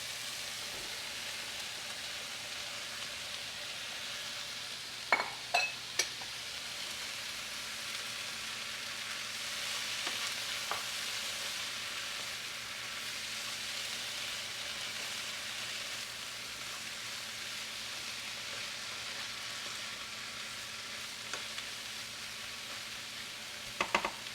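Corn and okra frying in a pan with a steady, soft sizzle throughout, broken by a few sharp clicks and scrapes of stirring, without any talk.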